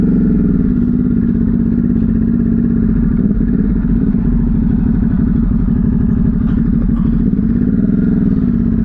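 A Ducati superbike's engine rumbles loud and close in a steady, throbbing idle, then revs and pulls away with a low, continuous roar.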